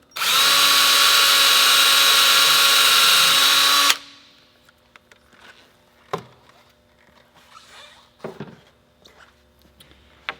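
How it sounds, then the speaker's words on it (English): A loud power drill with a 1/8 inch bit whines steadily for a few seconds, drilling until it hits plaster, then stops, followed by quiet clunks and handling noises of tools. "use your drill with the 1/8 inch bit, go through the center hole and drill until you hit the plaster"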